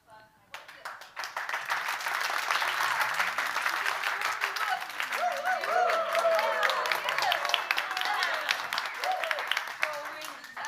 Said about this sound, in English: Clap really fast.